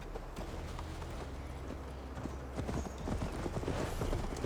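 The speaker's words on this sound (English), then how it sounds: "Mount up, Eivor. It's a long ride to Tamworth." A horse gallops in the video game Assassin's Creed Valhalla, its steady clip-clop hoofbeats quickening near the end over a constant low rumble of game ambience, with no speech heard.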